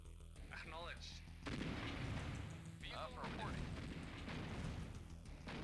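Grad rocket artillery fires in the strategy game Rusted Warfare with a Red Alert 1 mod: dense rumbling blasts with whistling rocket streaks build into a continuous barrage, while a voice talks over it.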